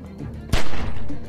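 A single loud gunshot from The Walking Dead: 400 Days, a sharp close blast followed by a lingering rumbling tail.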